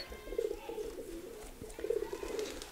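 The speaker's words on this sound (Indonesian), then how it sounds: "Serigala ini burung asal Majenang milik tim Haji Kate." A bird coos in low, rounded phrases, two bouts separated by a short pause, fairly close with faint background noise.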